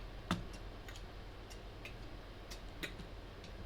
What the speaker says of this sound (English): The sound of the clock secondhand gets on my nerves.